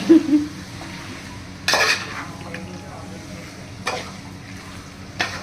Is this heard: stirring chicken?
yes